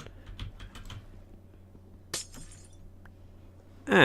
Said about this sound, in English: Now I put all the glass in